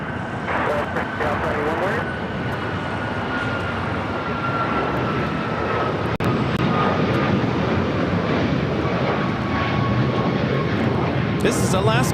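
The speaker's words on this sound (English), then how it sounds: "This is Alaska Airlines 1332 taking off to Liberia on a MAX 9." An Alaska Airlines Boeing 737 MAX 9 takes off at LAX with a loud, sustained engine roar and a high whine. It swells slightly toward the end, and people talk over it.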